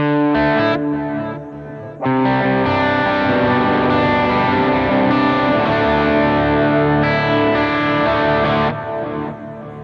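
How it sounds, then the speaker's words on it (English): Guitar played through a Jet Pedals Revelation ambient pedal, its plate reverb paired with tape delay, giving loud sustained chords with a thick wash of repeats and a brief dip in level near the start and end. "Let's go ahead and add some tape delay to that"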